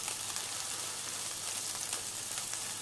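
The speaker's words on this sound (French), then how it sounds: "Je vais placer mes morceaux de raclette sur mes steaks directement dans la poêle." Raclette cheese pieces melting onto steaks in a frying pan, giving a steady, close crackling sizzle that holds unbroken throughout with no voices.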